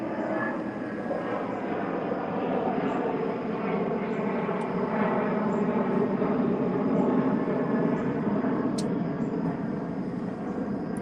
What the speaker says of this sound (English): There's another plane going over.